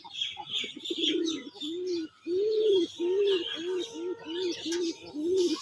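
A pair of sky-blue Raj Golla pigeons cooing in a steady series of soft, rounded calls, close by, with faint chirps in the background.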